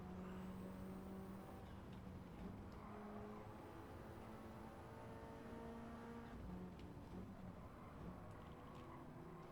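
A Nissan Skyline GT-R engine in Gran Turismo 7 drones with steady, sustained tones that shift pitch as it accelerates and shifts gears, heard alone and fairly faint.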